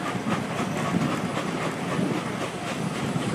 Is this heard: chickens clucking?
no